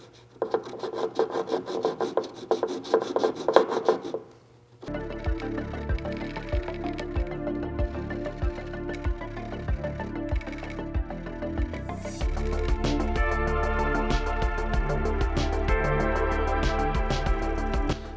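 A trim saw cuts flush across a wooden vpin cabinet front panel, a steady rasping rhythm of close strokes that changes pitch as the cut goes on.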